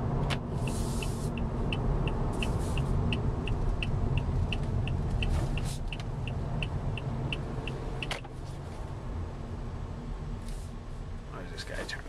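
A 2014 Toyota Corolla cruising at around 50 to 55 mph gives a steady low rumble of road and tire noise inside the cabin, fairly quiet and even, with a faint repeating tick running through part of it.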